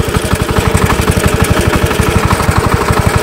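Single-cylinder walking tractor engine converted into a mini tractor, thumping in a fast steady rhythm, loud and close, with no talking.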